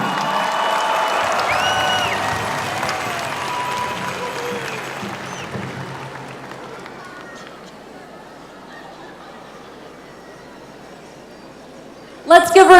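Dense applause and cheering from a big crowd at the 2014 Gathering of Nations powwow swells and then slowly fades, sharper claps and voices cutting in at the very end.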